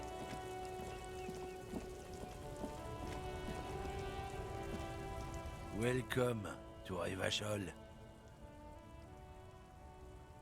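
Steady rain patters across surfaces in the game Disco Elysium, a constant wash under a short spoken line and some game music, with a brief burst of voice near the middle.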